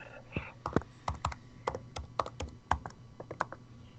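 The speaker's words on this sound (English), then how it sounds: "He's typing." Someone types quickly on a computer keyboard during an online Codenames game, sharp close key clicks coming in uneven bursts over a quiet room.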